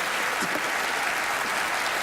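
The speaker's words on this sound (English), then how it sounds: "So we don't give Allison a big round of applause" Steady applause from a TV studio audience at a magic show fills the whole stretch, dense and continuous clapping with no talking over it.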